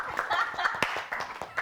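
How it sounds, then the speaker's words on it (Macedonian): Audience applause for a winner called onstage at a gala evening, a short burst of clapping mixed with some chuckles and voices. "Да ти дадем еден аплауз."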